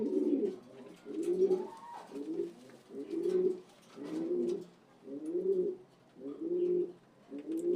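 A racing pigeon coos close by in a slow, regular series of about eight soft, throaty calls, each separated by a brief pause, in a quiet setting.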